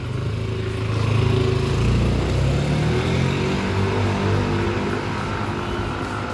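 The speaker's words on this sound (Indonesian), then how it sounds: "Dan motornya sudah selesai dan ini mau dites oleh Bro Carol sendiri" Yamaha Nmax scooter, converted from ABS to non-ABS with a replaced ECU, runs steadily throughout a test ride, its engine drone loud and continuous with slight rises in pitch as it revs.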